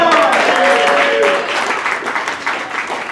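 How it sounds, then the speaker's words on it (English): Crowd at a live improv comedy show applauding a round, loud, dense clapping with some cheering and voices mixed in, easing slightly as it goes on. "give us all a round of applause"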